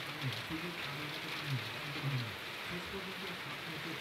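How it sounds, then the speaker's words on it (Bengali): A continuous wash of heavy rainfall fills a few seconds at constant strength, while a soft, indistinct voice hums faintly below the downpour. "আবার সে একই অবস্থা, বৃষ্টি আর বৃষ্টি।"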